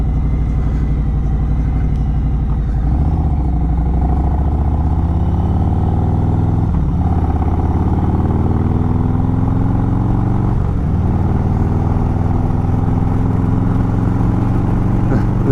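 A motorcycle cruises with a steady engine drone and gradual rev changes, heavy wind rush all around, heard from the rider's position.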